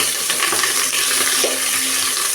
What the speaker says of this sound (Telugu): సన్నగా కట్ చేసి పెట్టుకున్న ఉల్లిపాయ ఫ్రై చేసుకోవాలి